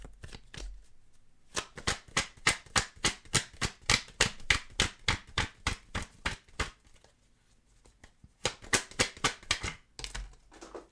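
A tarot deck is handled on a desk, giving quick runs of crisp card snaps in a rapid riffling rhythm, a short pause, then another burst, close and fairly quiet.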